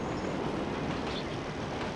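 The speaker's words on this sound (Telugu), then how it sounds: "ట్రైన్ ఎదురుకి వెళ్ళు మహేష్," Train rumble in the BGMI mobile battle royale game, a steady broadband roar running throughout with no breaks, moderately loud and heard alone.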